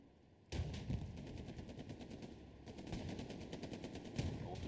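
Automatic gunfire rattles in Hell Let Loose, with rapid machine-gun bursts at a moderate distance and a heavier thump near the end.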